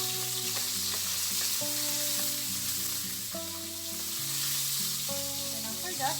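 Chopped onion and tomato added to a hot frying pan while cooking jackfruit with coconut milk, sizzling steadily and close, with musical notes playing over it.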